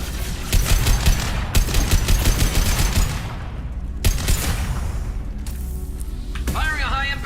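Rapid gunfire from high impact shots in Mass Effect 2 rattles in fast bursts, loud and close, pausing briefly between volleys, with game sound effects and a voice talking over the shooting.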